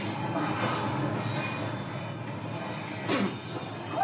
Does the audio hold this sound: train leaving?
yes